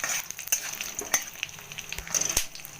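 Matar dal frying in a pan over a gas flame, a steady close sizzle with occasional crackles and stirring scrapes.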